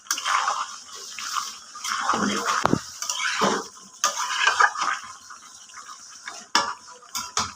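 A spoon scrapes and clanks around a pan of chicken scraps cooked with fried capsicum, steady close stirring with intermittent metallic taps over a soft background hiss.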